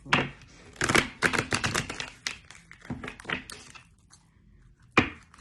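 Quick bursts of riffling and tapping from a deck of cards being shuffled close by, in uneven clusters that fade off, then one last sharp snap.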